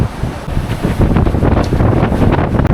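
Strong wind roars and buffets the microphone aboard a sailboat in higher winds off Turkey, a loud continuous rush mixed with the wash of waves against the hull.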